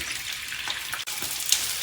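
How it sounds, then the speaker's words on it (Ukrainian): About 700 grams of chicken hearts frying in a small amount of oil, giving a steady close hiss and crackle with scattered small pops and no talk throughout. "я спочатку буду обсмажувати свої сердечки. У мене їх тут 700 грамів, я не сказав попередньо. На невеликій кількості олії."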